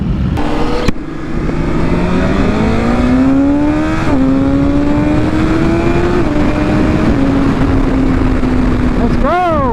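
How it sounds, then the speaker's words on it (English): A large group of BMW S1000RR sport bikes rides together, their engines droning loudly and rising and falling in pitch as they pass close by, with a rider's voice occasionally heard over the motors. "Look at that, bikes and bikes and bikes all the way through and through."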